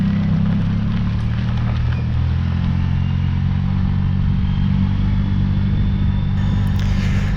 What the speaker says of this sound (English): riding the Suzuki Burgman 650 at Launceston